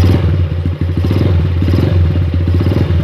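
Motorcycle engine revved while its charging regulator is tested, a loud, close, steady rumbling idle-to-rev roar with rattling clatter and no talking.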